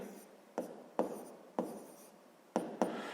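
Pen or pencil writing numbers by hand on paper during a sixth-grade maths exercise, heard as six quick scratchy strokes spaced unevenly, each with a sharp onset and fading rasp, close and fairly quiet, with no talking.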